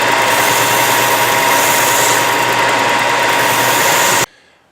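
A sander shaping a custom Mora knife handle runs loud and close as a steady buzzing whir, then cuts off abruptly near the end and leaves quiet.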